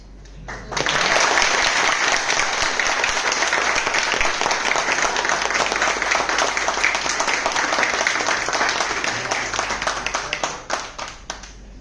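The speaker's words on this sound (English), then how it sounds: "Yeah, clapping here." Dense, steady applause from an audience at a physics department PhD viva voce, starting abruptly under a second in and holding loud and continuous for about ten seconds before thinning out at the end.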